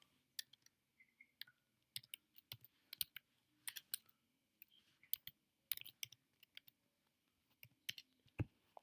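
Typing on a computer keyboard while entering database data, quiet close key clicks tapping in irregular quick bursts with short pauses, no voice heard.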